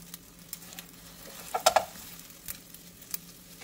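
Eggs scrambling in hot cooking oil in a wok for fried rice: a soft, low sizzle with light scraping and a few sharper crackles.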